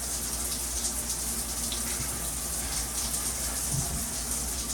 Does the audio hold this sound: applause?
no